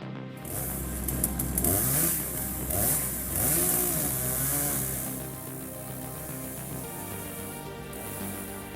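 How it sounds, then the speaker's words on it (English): A homemade mobile firewood splitting machine runs steadily with a mid-pitched engine drone, with rising and falling revs and a few sharp high-pitched squeals over the constant motor. "he engineered the Wheel of Death, a fuel-efficient, mobile, and ridiculously effective machine"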